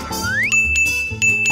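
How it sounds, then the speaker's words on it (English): A small hand bell rung to call for service, a bright tinkling strike that rings on with a sustained tone, then struck again about a second later, close and clear over a busy cartoon-like background. "We can use this bell."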